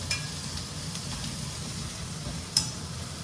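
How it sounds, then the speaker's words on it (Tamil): Steady sizzling of onions, garlic, green chili and curry leaves frying in hot oil, with a soft continuous crackle and an occasional stir or clink, no voices. "அந்த வெங்காயம், வெள்ளைப்பூண்டு, பச்சை மிளகா, கருவேப்பிலாம் வதங்கும் போது ஒரு வாசம் வரும் பாருங்கள்"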